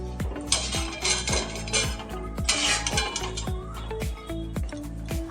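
Fried dahi bora fritters set one by one onto a metal plate, a close run of repeated metallic clinks and scrapes with soft pauses between the drops.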